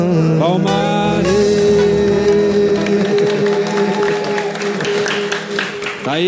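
A bar audience claps during live music, a dense wash of applause building beneath a sustained tone and voices, loud throughout.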